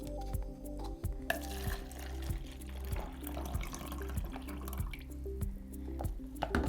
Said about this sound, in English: let's just give them a bit of a wash as we would. This is the tap water.